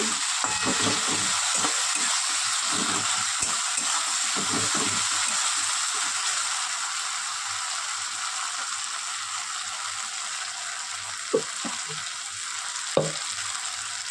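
Ginger-garlic paste sautéing in a pan, a steady bright sizzle running throughout, with a few soft spoon scrapes and clicks near the end; no talking.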